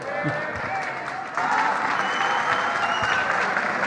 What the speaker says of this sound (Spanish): ahí estamos escuchando los aplausos de la gente